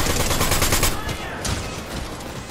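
Rapid bursts of hyper SMG fire in Fortnite, loud and dense for about the first second, then thinner scattered shots in a busy mix of game effects.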